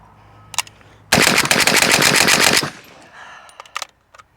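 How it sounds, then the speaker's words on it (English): An AK rifle fitted with a Delta-tek muzzle device fires a fast, loud burst of about fifteen rounds at close range, emptying the magazine in roughly a second and a half, with a faint earlier shot and scattered clinks afterward. "Let's just rattle off what's left in the mag."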